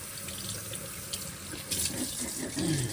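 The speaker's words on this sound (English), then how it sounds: "I'm just going to rinse that off." Tap water runs steadily over a razor-sharpening stone as it is rinsed, a close, even splashing rush with slight swells near the end.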